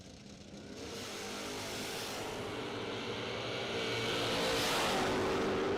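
Drag racing cars idle and rev at the start line as a Chevy II stages, a rising engine roar that swells steadily louder over several seconds, heard from some distance and without speech.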